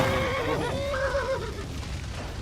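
A horse in Kingdom Come: Deliverance 2 whinnies in a rising, wavering neigh over a steady background hum, near a burning building, fading out after about a second and a half.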